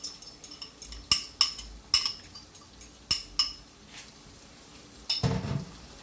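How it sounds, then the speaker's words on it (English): Boneless chunky saltfish poured into a frying pan, scattered clinks and light knocks against the pan with a brief soft sizzle or rustle near the end, close and fairly loud. "So I'm just going to pour it out in the frying pan."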